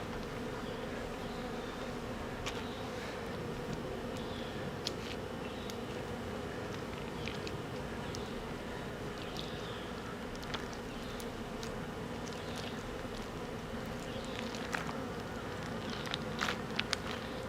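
Honey bees buzz steadily around a hive during hive work, a dense continuous drone close by with occasional louder individual bees passing near, no talking.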